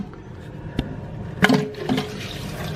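Water from a removed toilet flush valve spilling and splashing into a small plastic garbage can, a few sloshing gushes over a steady low background wash, near and moderately loud.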